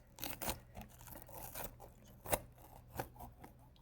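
A pepper is cut with a plastic knife in a series of crisp, crunchy snips and slices at an irregular pace, close up and fairly quiet.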